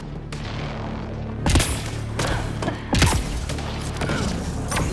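Enemy gunfire in the sci-fi shooter Mass Effect: Andromeda, with sharp cracking shots in bursts over a steady mechanical hum and rumble, loud and close, two heavier impacts standing out.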